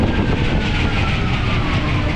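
A small amusement ride train at Tivoli Gardens in Copenhagen rumbles past close by, a loud, steady roar with no break across the short stretch.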